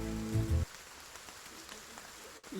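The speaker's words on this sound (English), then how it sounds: "as soon as you did, you just hear rain." Rain plays as an ambient sound effect during a tabletop role-playing session: a steady, soft wash of falling rain, following a brief burst of louder tonal music at the start.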